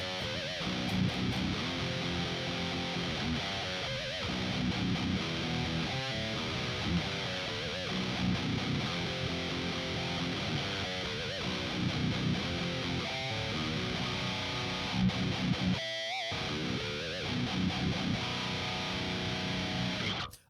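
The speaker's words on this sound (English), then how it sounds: "So let's switch the distortion on." A heavily distorted electric guitar plays continuously as a distortion effect is switched on for a metal tone, thick and buzzing, with a brief drop in the sound near the end.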